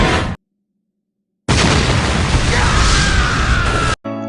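A bomb explosion in the anime BTOOOM: a brief burst, then after a short silence a loud, sustained roaring blast with a rumbling tail that cuts off abruptly.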